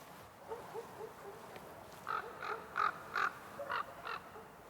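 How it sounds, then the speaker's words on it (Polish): Raven calling as it flies overhead, a series of about six hoarse croaks spaced roughly half a second apart, moderately near and standing out against faint outdoor background noise. "O, kruk leci, proszę bardzo."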